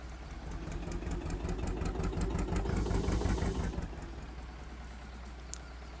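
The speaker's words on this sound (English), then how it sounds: "Fire up Mr. John Deere here." A small John Deere tractor's engine cranks and runs with a rapid chugging, loud and close at first, then drops to a steadier, quieter idle with no voices over it.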